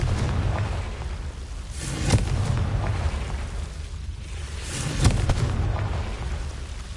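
Confringo blasting spell explosions in Hogwarts Legacy, two sharp bursts with rumbling tails a few seconds apart over a continuous ambient game hum.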